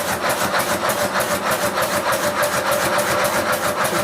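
A 5-inch-gauge Sweetpea live steam locomotive runs in forward gear on its right-hand side, giving fast, even rhythmic chuffing beats close by, with no voices.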